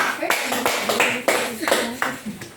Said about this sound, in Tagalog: Bigyan natin ng palakpak